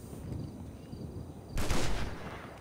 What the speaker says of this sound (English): Was that two shots in one?